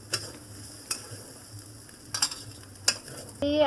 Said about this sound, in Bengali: ওটা তেলে নেড়ে নিচ্ছি